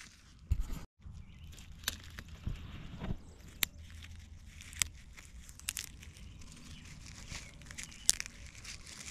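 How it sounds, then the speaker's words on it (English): Dry nesting material is crumpled by hand outdoors in wet weather for fire starting, giving close crinkling and crunching with scattered sharp rustles and tearing snaps. "Get them crumpled up."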